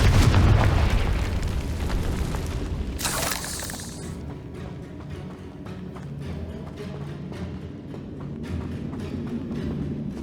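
A Confringo spell goes off in Hogwarts Legacy inside a catacomb: a sharp, loud burst and blast about three seconds in, over a rumbling game soundscape.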